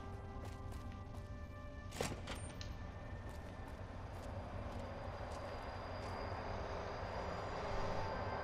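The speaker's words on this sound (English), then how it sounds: "That sounds like a train." A low, steady rumble of a passing train in Fallout: New Vegas, faint and continuous, with a brief sharp clack partway through.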